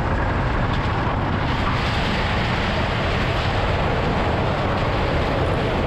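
Riding in the front row of the mine train roller coaster at Canada's Wonderland: a loud, unbroken rushing roar of wind and rumbling track fills the whole stretch, with no pauses.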